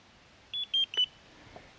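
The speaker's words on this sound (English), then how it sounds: "hold this button until you hear the beeps" A Thermacell EX55 rechargeable mosquito repeller being switched off gives a short run of quick high electronic beeps, four or five close together, fairly faint and near, with no voices.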